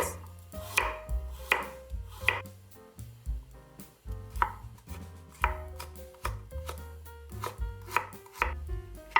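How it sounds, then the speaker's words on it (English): A knife chops napa cabbage leaves and a carrot into chunks on a board, with steady rhythmic chops that land close and crisp, some in quick pairs, and no talking. "Cut into chunks 4 napa cabbage leaves, 1 carrot"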